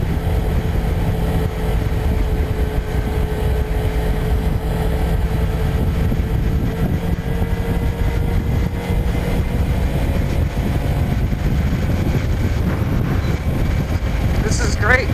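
Kawasaki Ninja 300 motorcycle riding at steady speed, a continuous engine drone with a wavering tone and heavy wind rush, loud and unbroken throughout, with a voice talking over it at times.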